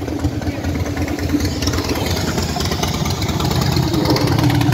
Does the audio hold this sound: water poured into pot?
no